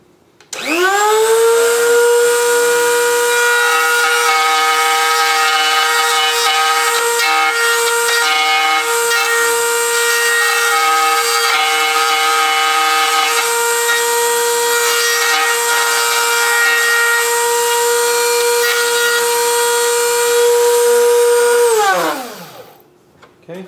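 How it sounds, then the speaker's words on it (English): A wood router cutting brace pockets runs steadily for about twenty seconds as a loud, close, high-pitched whine with a constant tone, then spins down and fades out at the end; nobody speaks. "So I'll go ahead and route with that."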